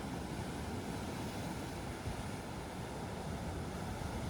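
Gentle waves wash over a pebble beach at a small fishing village on the coast, giving a steady, soft, hissing surf with no voices.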